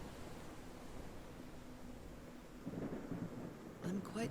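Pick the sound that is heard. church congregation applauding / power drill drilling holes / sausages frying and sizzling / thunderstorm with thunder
thunderstorm with thunder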